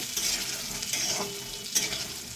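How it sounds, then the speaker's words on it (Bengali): Garlic, dried chilies and peanuts frying in mustard oil, a dense close sizzle with quick stirring scrapes throughout. "রসুন শুকনো লঙ্কা আর বাদাম এটা সর্ষের তেলে একটু ভালো করে ভেজে নেব"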